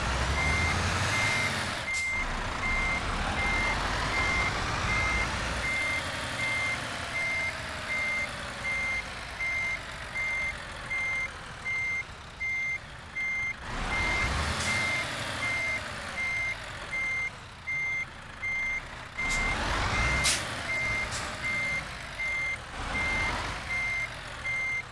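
A lorry backing up to line up with a trailer beeps a steady, repeating reversing alarm over its low engine drone, with a few sharp air-brake hisses breaking in along the way.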